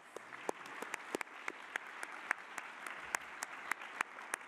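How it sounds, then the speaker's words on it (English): Audience at a luncheon applauds steadily throughout, a soft continuous patter of many hands with a few sharper individual claps standing out, fairly faint and with no talk over it. "Another round of applause."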